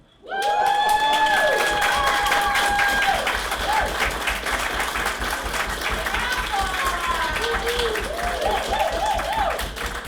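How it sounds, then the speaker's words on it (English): Applause and cheering from a crowd at a 100th birthday party for the world's oldest competitive horseshoe pitcher, loud and sustained throughout, with shouts and voices mixed in. "be careful with the applause"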